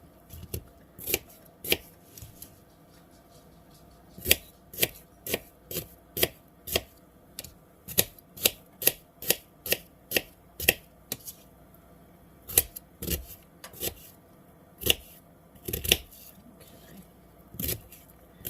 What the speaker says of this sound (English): we're going to cut up our onion